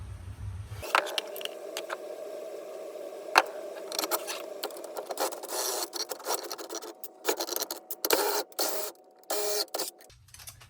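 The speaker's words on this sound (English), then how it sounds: "then I'm going to run the nut in." A steel nut turning down the greased threads of a Kurt D688 machine vise in a workshop, giving a steady close whirring rattle with irregular clicks and scrapes as it runs in, no voices over it.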